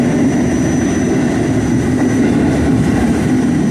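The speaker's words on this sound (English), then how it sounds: "Dude, you could hear the undercarriage crying for help." An R44 subway car's undercarriage rumbles heavily while riding on the line near Arthur Kill, a loud, continuous low roar with a faint steady whine above it and no voices.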